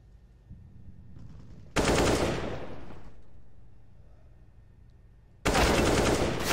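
Automatic gunfire in Counter-Strike, heard in a professional match, rips out in two loud sustained bursts separated by a quieter stretch with faint shots in the background.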